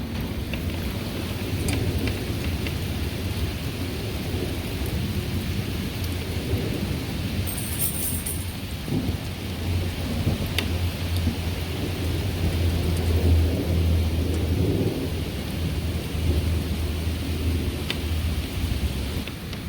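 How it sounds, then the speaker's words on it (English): Heavy rain pours steadily for a long stretch while deep thunder rumbles underneath, swelling and easing without any talking. "Listen to the rain."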